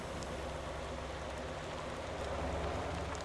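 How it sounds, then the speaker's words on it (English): Rain falls in the Motor Town: Behind the Wheel driving game, a soft, even hiss of patter that stays faint and continuous with no speech over it. "We might need to wait for the rain to stop for this first part."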